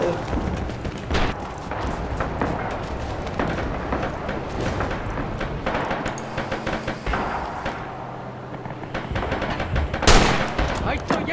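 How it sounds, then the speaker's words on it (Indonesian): Enemy artillery and gunfire in the Red Orchestra 2 war video game: a dense, continuous barrage of sharp shots and booming impacts, with a loud blast near the end. "artileri musuh"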